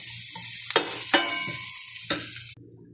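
Tomato sauce poured into a hot pan for macaroni sauce, a steady close sizzle with a few sharp bursts and stirring scrapes, then the frying drops quieter near the end.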